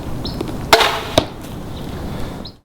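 An Elite Eon crossbow looses a Magnus Stinger Buzzcut 150 gr broadhead into a target at 45 yards, giving a sharp release snap followed a split second later by a second short impact crack over outdoor background hiss.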